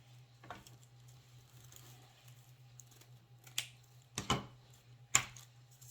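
Scissors snip through deco mesh in a few sharp, close cuts spaced apart, the loudest near the end, over a steady low hum with no talking.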